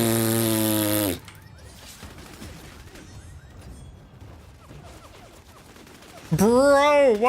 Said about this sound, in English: There's way too many people shooting me right now.